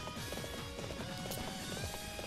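Galloping horse hooves in the video game Warriors Orochi 3 Ultimate, a steady rapid clip-clop rhythm running throughout at moderate level, with no talk.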